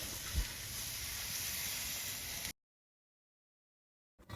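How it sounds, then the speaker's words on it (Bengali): Water is poured into a pan of frying spices, fried potatoes and chopped green chillies for a river tangra fish curry. A loud, steady hissing sizzle lasts about two and a half seconds before cutting to silence. "আমি ঝোলের জন্য পরিমাণ মতো পানি দিয়ে দিব"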